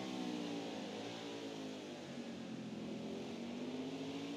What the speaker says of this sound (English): They hit the rev limiter on the straightaway in these cars.